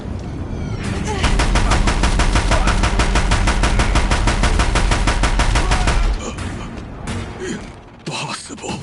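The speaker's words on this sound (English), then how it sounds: "If the Deathbringers keep firing, this bridge will go." Rapid, loud, continuous automatic gunfire from Deathbringer war machines in the video game Horizon Zero Dawn, a sustained rattling barrage lasting several seconds, then easing off into scattered impacts and rumble.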